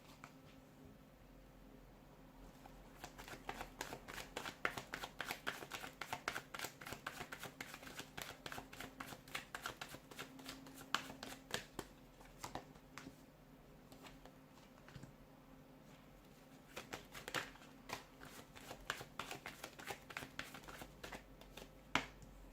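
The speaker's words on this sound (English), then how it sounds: "give the cards a shuffle" A deck of tarot cards is shuffled close by, quick papery riffles and flicks repeating in bursts with short pauses, loud and alone with no talk.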